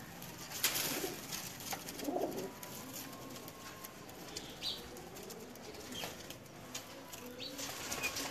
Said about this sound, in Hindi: मेरा बड़ा फेवरेट है ये रामपुरी कबूतर है